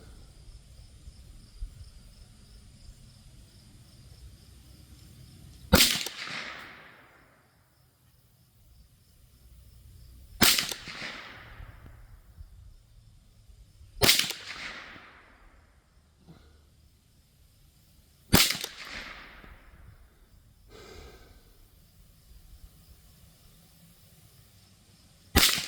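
A Derya TM22 .22lr rifle fires five separate sharp cracks at 35-yard target practice, spaced several seconds apart, each with a short fading tail over a quiet background.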